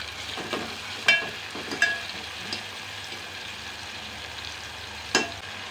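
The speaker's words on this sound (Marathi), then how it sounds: "आपण हे मस्त असं भाजून घेऊया थोडा वेळ टॅमॅटो थोडासा शिजून घ्याय शिजवून घ्यायचा तेलामध्ये" Finely chopped tomatoes cooking in oil for rajma curry, a soft steady sizzle with a few sharp spoon scrapes against the pan, quiet and close with no talk.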